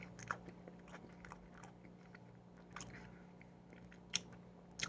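Someone chews an Entenmann's mini fudge iced golden cake up close, producing faint, soft moist chewing and occasional light crunchy bites over a few seconds, with no speech.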